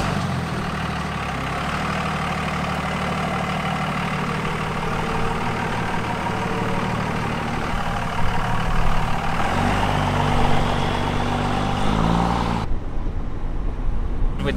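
Pickup truck engine running with a steady low rumble, close by, with a brief rise in revs near the end.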